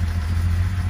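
A classic car engine, flooded and with oil filling a cylinder, runs in a steady low rumble close by for about a second, with a continuous even drone and no voices.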